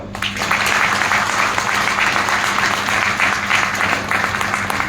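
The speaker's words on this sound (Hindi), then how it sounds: "तो अभी खुद के लिए तालियां बजाओ" A crowd breaks into sustained applause, dense steady clapping that fills the space from start to finish.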